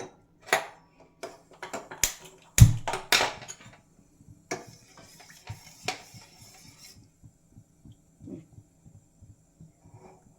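A spoon stirs and scrapes a health drink mix with water inside a pot, with irregular clinks and soft rhythmic taps close by.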